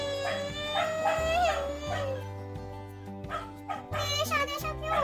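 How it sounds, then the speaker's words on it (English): Several dogs bark, yip and whimper in a busy spot in Bali, moderately close, with a steady hum and music-like tones running underneath the whole time. "There are dogs everywhere, and I love dogs, so don't complain."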